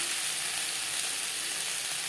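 Mixed vegetables with salt, turmeric and spices fry in a pan, giving a steady, close, even hiss of sizzling oil with no talking.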